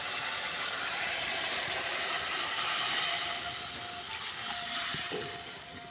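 Water with spices comes to a boil over a wood fire, giving a steady close hiss and bubbling roar that swells midway, with faint crackle and pops near the end and no talk.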